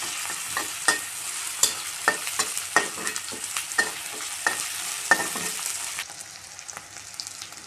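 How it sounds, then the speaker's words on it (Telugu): Onions stir-fried with turmeric, salt and ginger paste in a pan for a dondakaya coconut fry: a steady sizzle close by, broken by repeated sharp scraping and stirring clatters of the spoon. "పసుపు, ఉప్పు, అల్లం పేస్ట్ వేసాక కలపాలండి."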